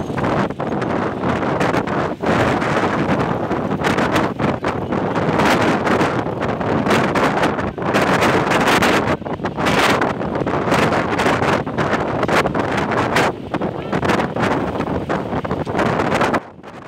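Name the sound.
strong wind blowing over a bridge in Ambon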